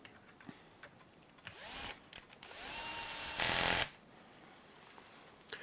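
Small power driver tightening a screw into the shock tower of an HPI Baja 5SC SS RC car, in several short, faint whirring bursts with a longer, louder run near the end, amid quiet room tone.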